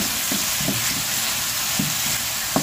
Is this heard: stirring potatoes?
yes